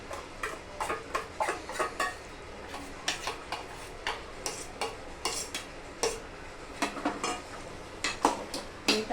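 A spoon repeatedly scrapes and clacks against a pot while onion-coconut masala is stirred into chicken, in a brisk irregular rhythm of close knocks over a faint frying hiss.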